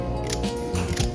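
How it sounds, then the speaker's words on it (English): Kitchen scissors snip hot chili peppers into a bowl of Italian-style marinated olives, a run of crisp metallic cuts repeating close up with no talking. "Hot chili, just cut a few in there."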